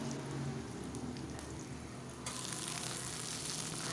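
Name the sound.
pumpkin greens added to frying onion and garlic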